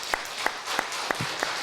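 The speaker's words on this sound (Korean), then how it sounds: "우리 박수로 환영하겠습니다." A church congregation at a Sunday service claps in welcome, a handful of sharp, widely spaced claps sounding fairly faint and sparse rather than a full ovation.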